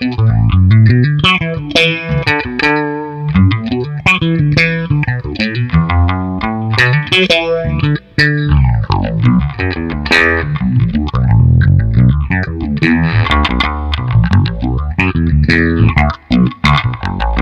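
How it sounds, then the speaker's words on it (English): Electric bass played through a Source Audio Soundblox Pro Bass Envelope Filter set to a phaser sound driven by a slow LFO, with loud, continuous notes and a sweeping, swirling tone that rises and falls throughout. "you can take the phaser sounds available in the bass envelope filter and get yourself a phaser pedal just by using a slow LFO"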